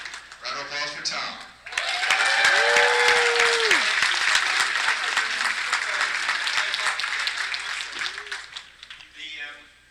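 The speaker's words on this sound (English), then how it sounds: "Round of applause for Tom." Audience at a Stan Lee comic con panel bursts into applause for Tom, loud and steady for several seconds after brief talking, fading out as a voice resumes.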